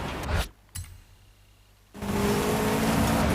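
An in-game car in Forza Horizon 5 roars loudly, cuts out to near silence with a brief blip, then the engine returns as a sustained steady drone under constant throttle.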